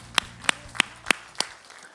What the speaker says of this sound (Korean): 박수로 하나님께 영광 올려드리겠습니다.